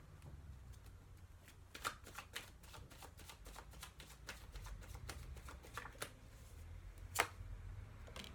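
Tarot cards are shuffled close by in a quiet room, a soft papery riffle broken by repeated crisp flicks and snaps at uneven intervals, with a faint low room hum underneath.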